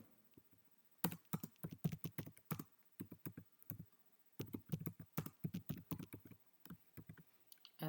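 Bursts of typing on a computer keyboard, quick clustered key taps in two long runs separated by brief pauses, close and clear with no talking.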